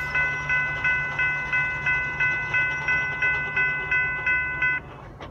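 A train with two locomotives rumbles past nearby in Baldwin, Georgia, while a crossing bell rings in a rapid, regular ding pattern above it, stopping just before the end.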